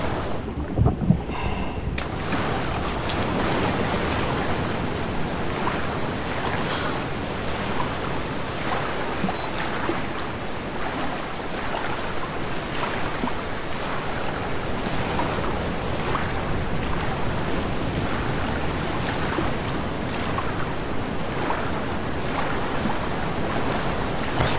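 Steady crash and wash of ocean waves from the video game The Solus Project, a continuous surf roar with wind noise, rolling on without pause and with no voices.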